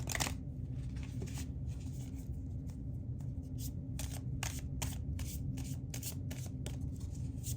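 Radiant Sun Oracle cards being shuffled by hand, a close, soft series of quick riffling bursts and taps, irregular at first and then a brisk run of repeated shuffles, quiet and without talk.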